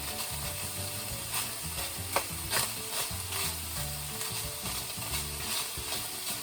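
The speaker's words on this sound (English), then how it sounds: "Flip on my ground beef." Ground beef cooking in a hot pan, a steady low sizzle beneath repeated scraping and stirring strokes, with a couple of sharper clicks of the utensil against the pan.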